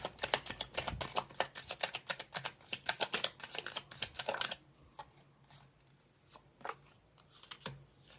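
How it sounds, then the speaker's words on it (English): Tarot cards being shuffled by hand, a dense burst of crisp riffling clicks and rapid flicks for several seconds that then thins out into a few separate card snaps over a quiet background. "let's shuffle some more and see if we can get more details about this here"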